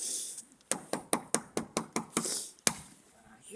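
A hammer strikes and breaks ice, about eight sharp, close blows in a steady rhythm, then a pause and one last hit.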